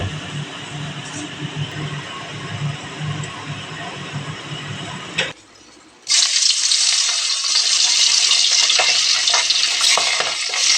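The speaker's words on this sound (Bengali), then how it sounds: "জলটা আমি দিয়ে দিলাম" Water poured into a hot pan for a thin Bengali katla fish curry with ginger-cumin paste: a low stirring rumble, a brief pause, then a loud, sustained bright hissing sizzle as the water hits, close and steady with no talk.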